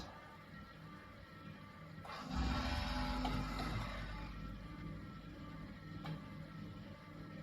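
A GD 261ZD flash point tester works through its ignition cycle, a quiet mechanical whir that swells into a louder rumbling burst of a few seconds before easing back, with a brief click near the end.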